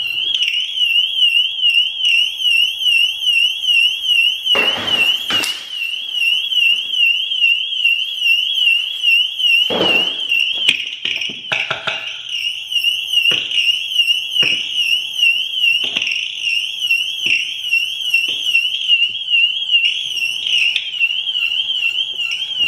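A BMW car alarm siren blares continuously with a warbling, sweeping tone, loud and close, interrupted by several sharp clicks and knocks.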